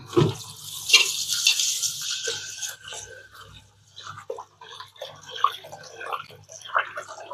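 Soaked rice and millet grains are swished and rubbed by hand in a bowl of water, giving close, continuous sloshing and splashing with irregular bursts and small drips, and no talk over it.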